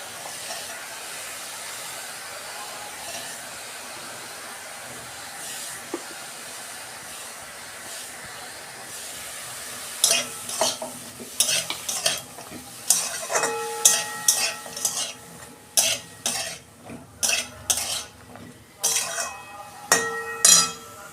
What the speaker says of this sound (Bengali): আমি হালকা নেড়ে চেড়ে ভেজে নিয়েছি বেগুন আর পেঁয়াজ